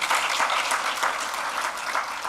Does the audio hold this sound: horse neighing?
no